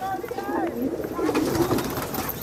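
A pigeon coos in repeated low, rolling phrases, close and fairly clear, over a steady hiss of background noise.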